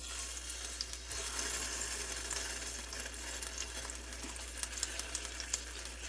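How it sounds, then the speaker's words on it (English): Marmalade sizzles in melted butter in a skillet, a steady faint crackling hiss with a low hum underneath and no talking. "Once that butter get melted, you turn your skillet down, medium high, and you can go ahead and put your marmalade in there."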